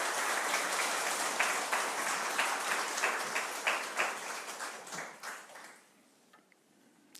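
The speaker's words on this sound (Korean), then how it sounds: "우리 선교사님 나오실 때 박수로 환영하도록 하겠습니다." Church congregation at a Sunday service applauding to welcome a missionary to the pulpit: dense, steady clapping from the crowd for several seconds, thinning out and fading to near silence at the end.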